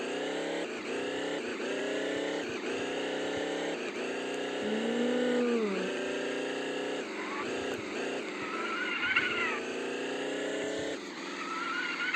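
Arcade-style car motor from the video game Chicken Gun, a steady synthetic engine drone with pitch sweeps as it drives and revs, continuous and fairly loud with no talking.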